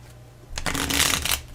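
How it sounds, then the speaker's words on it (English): A deck of playing cards for the card game Twisted Fables is shuffled up close in one quick riffle, a soft fluttering burst lasting about a second after a brief quiet lead-in. "I have to shuffle my entire collection of cards."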